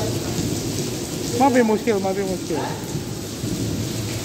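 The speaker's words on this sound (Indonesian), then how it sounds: "Dan hujannya itu ya sekarang cukup deras ya" Heavy rain pours steadily with rolling thunder at Masjid al-Haram, a constant dense wash throughout, while someone speaks briefly in the middle over the downpour.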